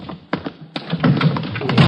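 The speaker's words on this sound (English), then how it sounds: "Just a minute, I'll get the door here." Radio drama door effect: a few sharp taps and thunks, then a rattling, handling clatter as the door is worked open, close and fairly loud with no talk over it.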